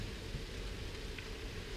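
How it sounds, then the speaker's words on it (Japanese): Rain pours onto a moving car under an otherwise blue summer sky, a steady, dense hiss of drops drumming the roof and glass with no voices. "なんか空は青いんだけど結構雨降ってるよこれ。"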